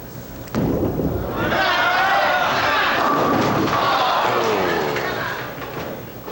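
Bowling ball rolling down lane 22 and crashing into the pins at a 1982 pro tournament title match on Long Island, leaving a lone 6-pin; a loud, sustained rumble and clatter swells and lingers with crowd noise.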